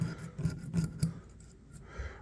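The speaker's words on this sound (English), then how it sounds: "you can actually scrape some of that rust right off." A few short rasping scrapes of metal on metal as rust is scraped off a knife blade, close up, coming in uneven strokes with brief pauses between them.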